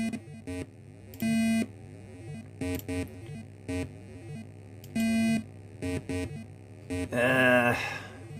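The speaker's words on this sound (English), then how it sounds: "Hit a coin, you get a high tone." A ProConn gaming-machine board in test mode answers inputs with a string of electronic beeps and tones, short and longer, some higher-pitched, under a steady mains hum and a burst of harsher buzzing near the end.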